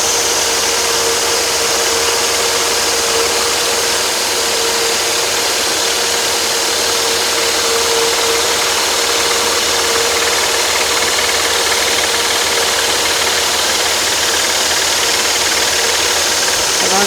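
A power saw runs loud and steady for the whole stretch, its blade cutting through a wooden salad server with an even, unbroken whine and no pauses.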